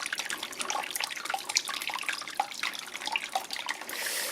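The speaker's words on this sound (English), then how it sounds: "It'll just trickle away there, and it'll just carry on filling up that pot." Hot water trickling from a hot liquor tank into a brewing pot on brew day, a continuous splashy patter with dripping detail, close and fairly even.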